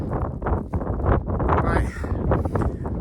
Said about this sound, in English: I'm hoping that the wind is going to gradually calm down as the night goes on.